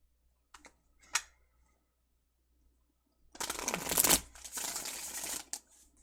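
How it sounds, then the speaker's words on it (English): Tarot cards shuffled by hand, a couple of brief snaps first, then a dense riffling burst for about three seconds, close and fairly loud with no talk. "Okay, fine, I'll do a shuffle."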